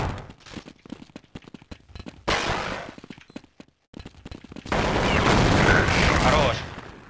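Counter-Strike gunfire on de_inferno, with short rifle bursts and a sustained loud volley of shots during a match, mixed with scattered game sounds and brief voice chatter.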